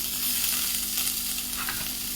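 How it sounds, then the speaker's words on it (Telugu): Ginger garlic paste frying in a pan for egg curry, a loud steady sizzle with faint crackling, close and continuous with no talk. "ఇప్పుడు ఈ అల్లం వెల్లుల్లి పేస్ట్ పచ్చివాసన పోయేంత వరకు ఫ్రై చేసుకోవాలండి"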